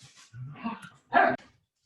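A pet dog indoors gives a couple of short barks, one sharp and loud, among brief quieter yips and gaps of silence.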